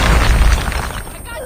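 Gunfire in a multiplayer shooter game lands as a quick, loud cluster of booming shots and bursts up close, fading into a brief tail, with a voice talking over it.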